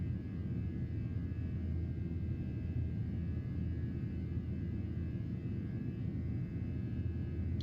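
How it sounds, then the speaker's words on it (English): Boeing 737-800 in a flight simulator roars steadily through its takeoff, a constant broadband jet engine rumble with no voices. "Yeah, beautiful takeoff though, I will say."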